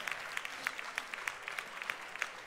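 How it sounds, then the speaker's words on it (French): Faint, scattered audience applause at a burger cooking contest final, a thin patter of individual claps rising just after the countdown ends. "On peut applaudir."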